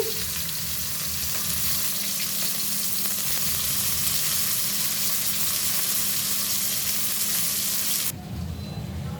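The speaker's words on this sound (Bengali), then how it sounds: "পোয়া মাছগুলো সুন্দর করে ভেজে নিচ্ছি" Poa fish frying in a pan, a steady close hiss of oil that runs loud and even, then thins abruptly near the end.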